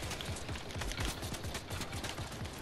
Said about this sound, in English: they're shooting back.